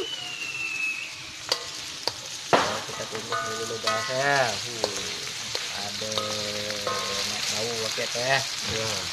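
Chopped white chili and shallots sizzle in a hot pan, a steady crackling fry with clattering stirring, while a voice talks over much of it.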